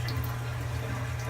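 Water runs steadily from a tap into a pot while brewing a red-tinted homebrew beer, a continuous close broadband rush with no talk over it.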